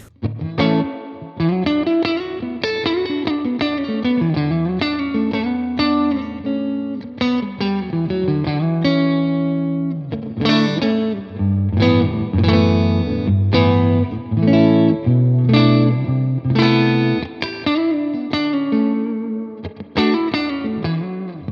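Electric guitar played through an Orange amp with a Tone King Imperial preamp, its reverb set to a high mix with very low dwell; chords and picked notes ring steadily and loud, with a short, bright spring-style ambience and no talking.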